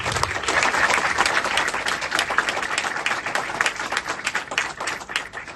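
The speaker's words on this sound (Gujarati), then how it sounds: "કર્મચારીઓને સન્માનિત કરવા માટે આપણે તાળીઓથી ગડગડાટ કરવાનું છે" Loud, sustained applause from an indoor crowd honouring employees of the month at a Rajas Enterprise event in Gandhinagar, with dense steady clapping and no pauses.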